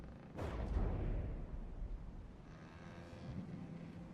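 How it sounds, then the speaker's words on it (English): Fireworks burst in the distance at dusk, one deep booming thump followed by a long rolling rumble and a faint crackling tail fading away outdoors. "as we watch fireworks going off in the distance"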